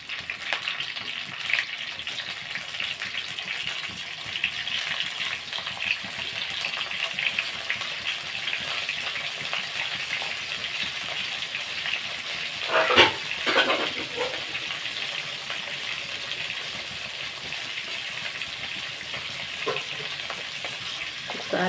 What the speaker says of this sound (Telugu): ఆయిల్ కాగుతుంది. మనం చేపలు వేసుకుందాం ఇందులోని.